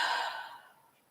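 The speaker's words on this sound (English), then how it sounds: "Let's take a deep breath in through the nose, exhale through the mouth." A single deep exhale through the mouth during a yin yoga class, a close breathy rush of air that starts strong and fades away over about a second.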